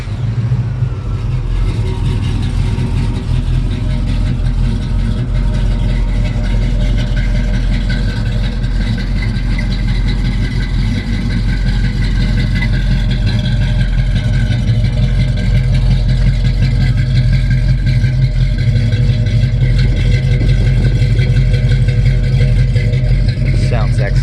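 A 1969 Pontiac Trans Am tribute car's engine runs at a steady, loud idle with a heavy, continuous low rumble throughout, close by and without pause.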